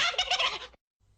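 A short burst of gobbling fowl calls, a chicken sound effect, loud and close for under a second before cutting to near silence.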